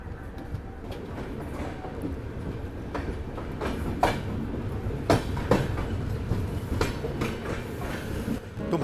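Indian Railways passenger train pulling away from a station and rolling along the rails, with a steady low rumble and repeated clickety-clack wheel beats over track joints, continuous and fairly loud throughout.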